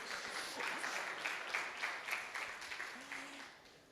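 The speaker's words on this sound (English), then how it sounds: "Please, a round of applause for Charles." Audience applause for Charles at a welcome ceremony of a literary festival, fairly faint and diffuse, a steady wash of clapping across the room that thins out toward the end.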